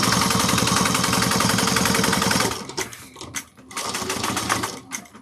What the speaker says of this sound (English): we're gonna top stitch at 1/8 of an inch on the base